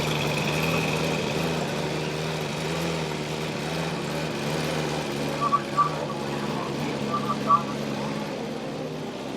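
A BMW M1000 RR motorcycle with titanium headers and a titanium high-flow catalytic converter idles steadily while warming up, an even close drone with a few faint, brief chirps near the end.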